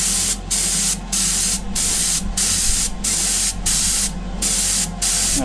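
An airbrush lays a base coat on a flaking Greek-style vase in steady, loud bursts, roughly one hiss per half second, each short spray separated by a brief gap, with a low constant hum beneath.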